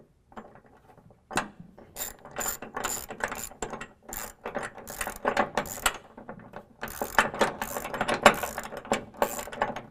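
Hand ratchet snugging a 7/16 bolt head on a DECKED truck bed storage system in a 2016 Chevy Colorado, rapid close clicking bursts in uneven runs with short pauses between strokes, no talking.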